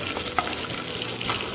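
Garlic, cumin and mustard seeds fry in hot oil for gongura pappu, a brief close, even sizzle with faint crackles and a couple of light spatula scrapes.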